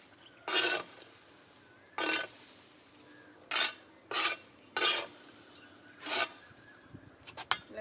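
Six separate gritty scraping strokes, close and fairly loud, as dry soil and sawdust are turned over, with short pauses between each pass.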